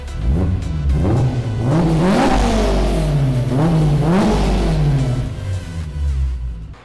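A Honda S2000 engine revs up and down repeatedly in rising and falling sweeps, loud and close, with a steady low rumble underneath, while driven back and forth in a workshop.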